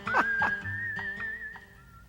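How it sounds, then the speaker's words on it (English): A man whistles a little cowboy tune as a thin, steady, sustained tone, close and fairly clear, while a few soft knocks and taps sound underneath. "he's whistling a little cowboy tune"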